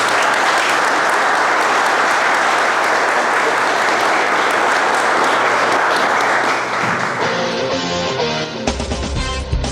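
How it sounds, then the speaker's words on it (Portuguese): After a lecture, an audience gives dense, loud applause that holds steady for several seconds, then thins out and fades as a few voices and room sounds emerge near the end. "peço a ele uma salva de palmas"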